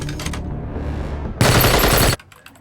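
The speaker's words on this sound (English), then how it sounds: "the eye in the sky is picking up gunfire in Zone 12" Gunfire in a sci-fi cyberpunk film, a dense burst of rapid automatic fire lasting under a second that follows quieter rumbling ambience, loud and close with no voices.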